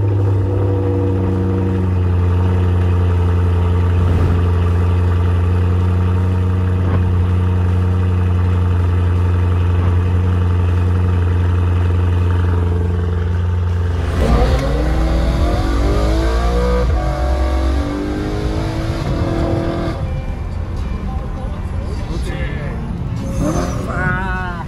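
Kombi van engine running close by, idling with a deep steady drone and then revving up in rising and falling bursts, loud and continuous.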